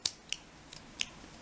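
Scissors snip through crochet yarn, four quiet crisp cuts spaced unevenly, close and isolated against a faint background.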